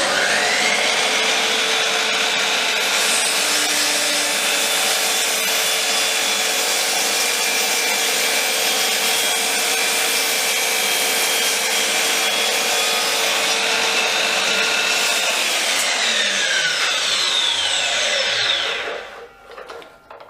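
A power saw trims wooden decking boards for a trough planter, cutting in one loud, steady whine that holds for about eighteen seconds before winding down to a stop, with no talking.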